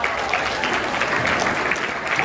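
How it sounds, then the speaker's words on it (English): An audience of high school students claps at an assembly, a dense, even burst of applause held at moderate volume for a couple of seconds. "Give yourself a round of applause."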